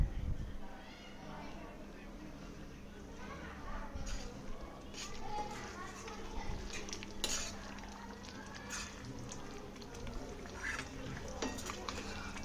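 A spoon stirs dried prawn curry with fresh coriander in a pot, soft scraping and clinking against the metal under a speaking voice.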